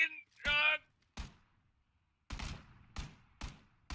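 Gunfire in a video game lands as separate sharp, punchy shots spaced irregularly and heard fairly close. A voice briefly speaks early on.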